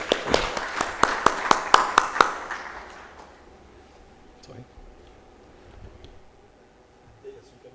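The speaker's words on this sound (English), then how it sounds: "And a last round of applause for our panel members." Audience at a child rights symposium panel applauding the panel members, a short burst of sharp claps for about two seconds that fades into quiet room murmur and faint voices.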